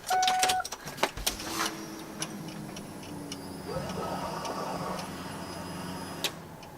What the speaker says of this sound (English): when I turn it forward, like the ignition power, my fuel pump should prime for a couple seconds